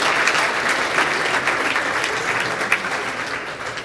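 A crowd at a university awards ceremony applauds the women's basketball team with steady, dense clapping that holds throughout and sounds moderately distant across the hall.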